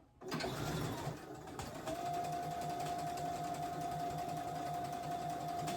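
Sewing machine runs steadily close by, stitching along the seam of a wreath sash with a continuous whirring mechanical hum and a brief pause near the start.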